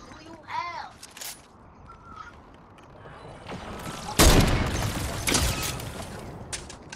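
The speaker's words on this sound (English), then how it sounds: "Yo, I missed all my shots." Video game gunfire cracks out in a few loud bursts, sharpest around the middle, with chatter and game noise underneath.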